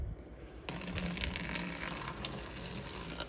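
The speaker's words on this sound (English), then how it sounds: "Online it says that you can rinse it down the drain with water." Water gushes steadily from a tap into a sink, rinsing cornstarch-based insulation down the drain, a loud continuous splashing flow that starts abruptly after a brief quiet moment.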